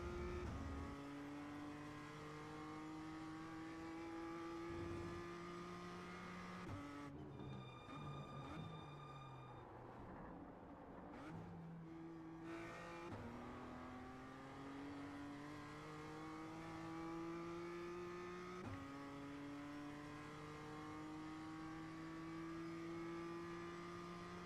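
A BMW M2 race car engine in a racing video game revs hard and climbs repeatedly through the gears, dropping briefly under braking and downshifts midway before accelerating again, with a steady, continuous drone.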